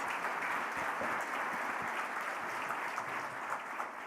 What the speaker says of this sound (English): Please, a special round of applause to her, please.